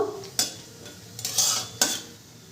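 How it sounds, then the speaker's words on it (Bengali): Bay leaves, two dry red chillies and whole cumin are stirred in oil and ghee over a medium flame, with three or four distinct scraping spoon strokes over a soft background sizzle. "ফোড়নটাকে একটু হালকা নেড়ে চেড়ে ভেজে নেব।"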